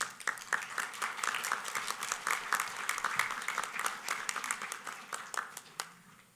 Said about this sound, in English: A nice round of applause for a very special man.